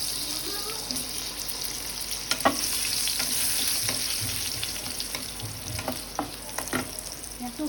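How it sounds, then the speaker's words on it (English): Vegetables fry in about two tablespoons of mustard oil in a wok, a loud, steady, close sizzle broken by scattered scrapes and taps as they are tossed about. "I have taken a wok and I am putting around 2 tablespoons of mustard oil, and I am going to fry the vegetables"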